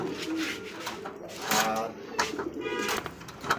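Bombay racer pigeons coo softly and intermittently nearby amid rustling and faint handling knocks, with people talking in the background.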